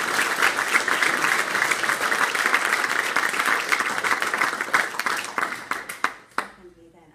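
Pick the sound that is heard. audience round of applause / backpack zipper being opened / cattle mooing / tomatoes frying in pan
audience round of applause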